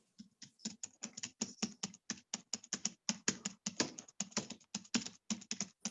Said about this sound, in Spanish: Hay un ruidito de teclado, hay que cerrar micrófonos, por favor.